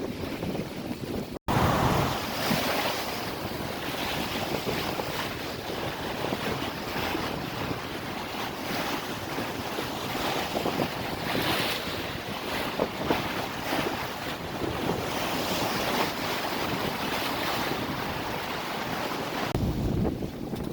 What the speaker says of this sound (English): Fairly aggressive 4 to 6 chop.